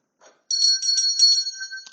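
A bell rings over and over in a quick run of bright, metallic strikes. It sounds close and clear, with nobody talking over it.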